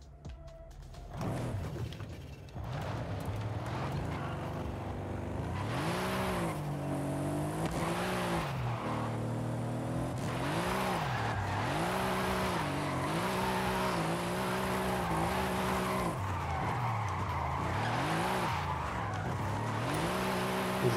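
Sustained drifting in Forza Horizon 5 on a tough map, engine revs rising and falling in waves under long, continuous tire squeal, steady and fairly quiet, with no voices.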